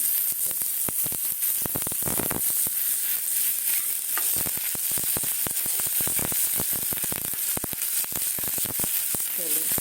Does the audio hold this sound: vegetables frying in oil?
yes